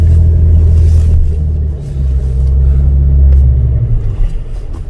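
A heavy car rumbles slowly over rough off-road ground, a loud, close low engine drone that dips briefly and surges again, with faint bumps and knocks.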